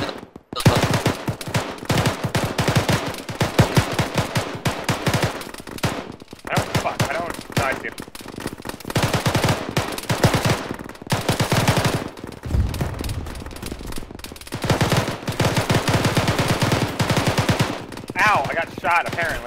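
Heavy gunfire in Arma during a ShackTac jungle runway battle: rapid automatic bursts and single shots crack loudly and repeatedly, with brief pauses between volleys.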